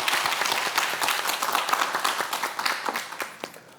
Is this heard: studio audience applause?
yes